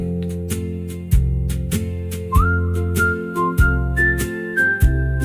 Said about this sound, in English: Soft whistling